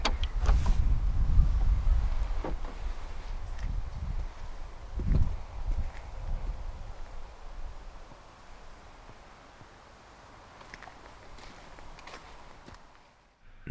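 The boot of a 2014 BMW 220i Coupe M Sport opens with a short mechanical release and a soft whirring motion early on, then a faint, quiet settling with no talking.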